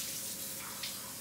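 Water runs from a tap as a container is rinsed out after holding baking soda, a steady close hiss of flowing water throughout with no talking.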